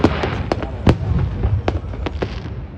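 New Year's fireworks burst over New Orleans in a rapid series of sharp, loud cracks and pops, some overlapping, over a constant rumbling background.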